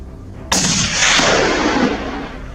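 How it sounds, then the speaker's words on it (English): A loud burst of gunfire erupts suddenly during a wild hog hunt and keeps roaring and echoing without letup, like several guns firing together up close. "Chaos erupted as the sound of gunfire sent the hogs scrambling in all directions"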